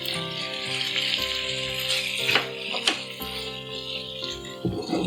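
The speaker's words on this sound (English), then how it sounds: "So in goes the tomato puree." Tomato puree drops into vegetables frying in a pan for paneer kathi rolls, giving a steady close sizzle with a few soft wet plops and clinks, and no talk.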